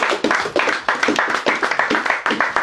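A church congregation claps and applauds together, a dense, steady patter of many hands filling the room for a few seconds, with faint voices mixed in.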